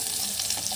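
Garlic frying in a pan, giving a steady, close sizzle that stays even throughout a short moment with no pauses.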